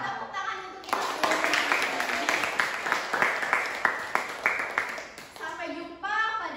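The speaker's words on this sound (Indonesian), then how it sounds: "Tepuk tangan untuk kita." Children in a classroom clap together in a brisk, rhythmic burst of several seconds, framed by someone speaking before and after.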